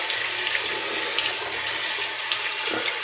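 Tap water runs steadily into a bathroom sink for a rinse after a shave, an even, close hiss with light splashing.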